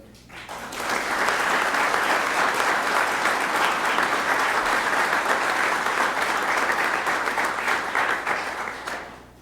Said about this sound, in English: I hear Charlotte giving me some applause back there